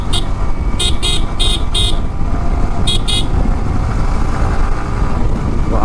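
Motorcycle engine droning steadily on a highway during an overtake, with several short horn toots breaking in early on and again midway, loud and continuous throughout.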